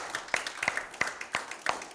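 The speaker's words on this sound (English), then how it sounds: "Give him a hand clap tonight." Scattered hand claps from a church congregation, sharp and irregular, fairly close, with a few overlapping bursts over a couple of seconds.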